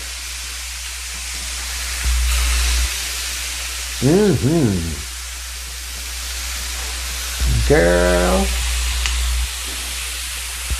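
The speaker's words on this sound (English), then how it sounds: "Gotta love a good sizzle." A soft, steady sizzle of chicken cooking on a Cuisinart indoor grill runs throughout, with brief spoken exclamations over it.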